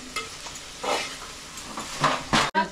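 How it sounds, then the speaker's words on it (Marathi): Onion, tomato and capsicum cook in a pan, with a soft sizzle under several stirring scrapes and a sharp metallic clink near the end, close-up and brief with no voices. "आता मी हा कांदा, टोमॅटो आणि शिमला मिर्च टाकलेली आहे आणि थोडी अशी मी शिजवणार आहे."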